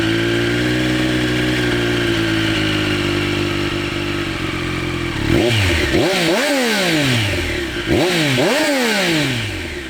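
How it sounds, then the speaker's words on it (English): A 2021 Triumph Street Triple R three-cylinder motorcycle engine idles steadily, then is revved hard twice in quick succession, each blip climbing and falling back, loud and close with no talk. "I do love the sound of a triple."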